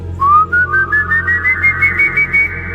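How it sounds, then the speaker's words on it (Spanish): A long, high whistle rising in pitch and then holding steady for a few seconds, with a faint pulsing wobble and a low hum underneath. "Era un silbido, largo, agudo y espeluznante."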